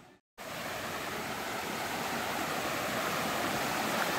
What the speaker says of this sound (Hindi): ये देखो, तो शायद मैं वाटरफॉल के ऊपर हूँ,